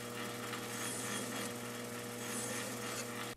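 A hand file rasps across a curved metal workpiece turning on a lathe, a continuous close scraping with a steady hum running underneath, heard without talk.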